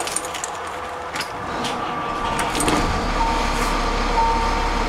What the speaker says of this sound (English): Let's fire up that diesel.